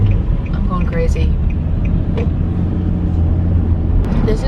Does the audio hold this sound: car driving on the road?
yes